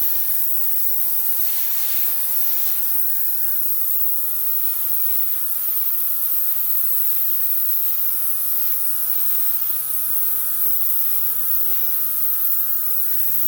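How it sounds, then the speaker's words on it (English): A small airbrush hissing steadily as it blows wet paint color across a fluid art bloom piece, a continuous close airy spray with a faint background hum and no talking. "Now I'm just going to grab my little airbrush and blow some of this color out a bit."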